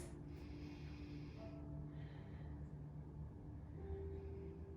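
Deep breaths taken while holding a yoga forward stretch, two long airy inhales and exhales, close and soft, over a faint steady background hum.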